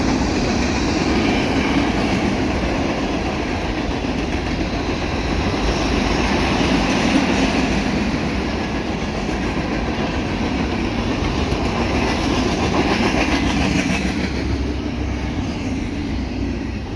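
A CPKC freight train with five locomotives and ballast maintenance-of-way cars rolls past at a Dorval crossing near Cardinal Avenue, a steady broad rumble with faint clickety-clack holding at even loudness throughout.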